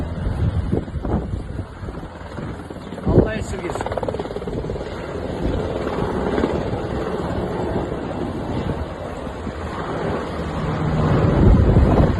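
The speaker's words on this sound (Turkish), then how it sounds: "iki helikopter aralıksız su döküyorlar" Steady rotor drone of a firefighting helicopter dropping water on a forest fire in Armutlu, Yalova, mixed with heavy wind noise and rushing, surf-like water sounds, continuous and fairly loud throughout.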